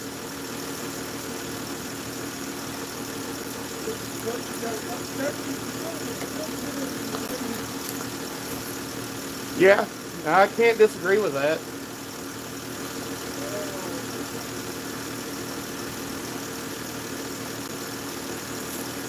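A Mopar car with a loud lifter idles in a steady, even rumble throughout, with someone speaking briefly partway through.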